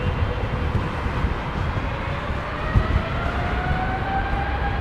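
Jet engines spool up to takeoff thrust on a departing airliner, a steady loud broadband roar with a rising whine running continuously throughout, heard from inside the aircraft.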